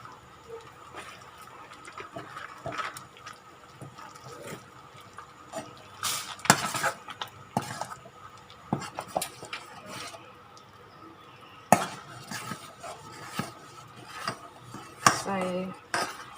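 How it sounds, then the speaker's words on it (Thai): Metal utensil clinking and scraping against a pot while stirring split mung bean dessert, in irregular bursts of clatter over a quiet kitchen background, fairly close and moderately loud. "ถ้าเราไม่คนเขาจะ ไหม้ติดก้นหม้อนะคะ"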